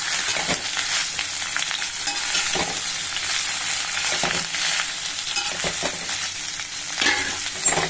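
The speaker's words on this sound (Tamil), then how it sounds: "எண்ணெயில் வறுவல் பண்ணணும்." Food frying in oil in a kadai, a loud continuous close sizzle with intermittent scraping and stirring clatter throughout, no voices.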